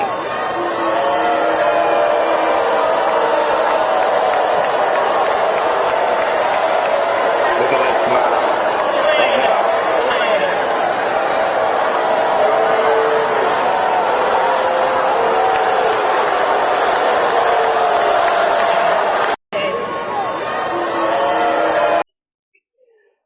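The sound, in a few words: stadium crowd booing at Beyonce Kamala rally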